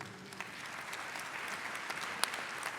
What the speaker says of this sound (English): A round of applause for my super panel, please.